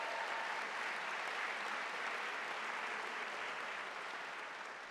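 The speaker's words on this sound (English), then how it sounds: "if you get excited about cheering for that" At a college welcome event, a large indoor audience applauds loudly and continuously, a dense wash of clapping that fades slightly toward the end.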